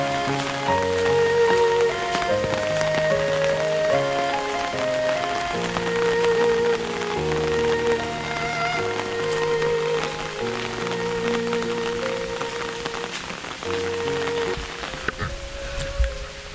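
Steady rain falls at Bai Dinh Pagoda in Ninh Binh, Vietnam, a constant even patter running beneath louder background music throughout.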